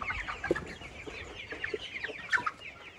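Farm chickens squabble and cluck, with short excited squawks and clucks rising over a soft yard background, close by and moderately loud, with no talk.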